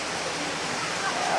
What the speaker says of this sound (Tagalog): Sobrang lakas talaga ng ulan dito tol.